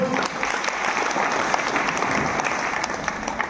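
A crowd at a Democratic Party of India political conference in Satara claps together in dense, continuous applause, loud and steady from start to finish.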